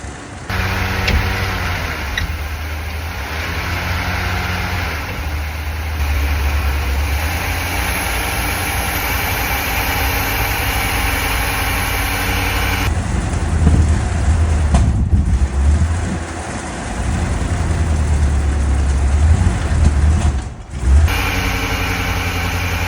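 A rough old van engine runs steadily close by, bogging down, its low rumble surging and dipping as it strains and labors.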